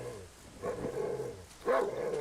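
A creature in the survival horror video game Darkwood gives two low, throaty growling bursts with a slight barking edge, close and moderately loud. A quiet pause separates the bursts, and no one talks.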